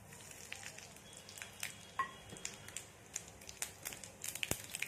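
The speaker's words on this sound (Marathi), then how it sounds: "जिरं मोहरी चांगलं तळतळू लागल्यावरती गॅस बंद करायचा आहे" Cumin and mustard seeds sizzle and crackle in a small tempering pan of hot ghee on a gas stove, a quiet steady frying hiss broken by frequent sharp pops and spatters.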